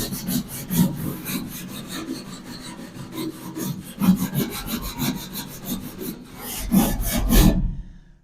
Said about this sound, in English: I'll get this carbon off, because there's a lot on there